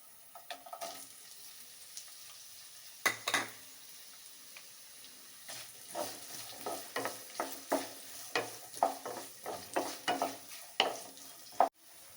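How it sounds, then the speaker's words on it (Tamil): Two large, finely chopped onions sauté in a pan for a dried anchovy thokku, with a soft sizzle under repeated sharp spatula scrapes and knocks that grow busier after the first few seconds. No one speaks. "வெங்காயம் சேர்த்து ரெண்டு நிமிஷம் நல்லா வதக்கியாச்சு"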